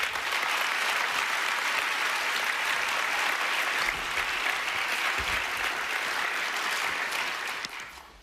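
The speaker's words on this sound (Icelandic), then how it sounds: "Og klappa fyrir henni líka." Sustained applause from a theatre audience at Iceland's Gríman performing-arts awards in 2015, a dense, steady clapping that fills the room for about eight seconds before tapering at the end.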